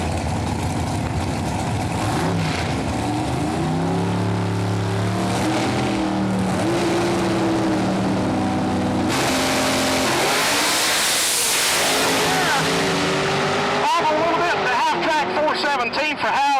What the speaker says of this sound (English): Junior dragsters, 5 and 6.